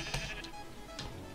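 A sheep bleats in the Minecraft video game, two or three short, quiet bleats in quick succession with no talk over them.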